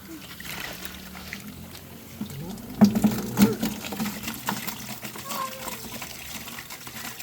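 Water is poured into a bucket outdoors, giving a continuous trickling and splashing sound with a few louder gushes in the middle, heard under faint background noise and distant voices.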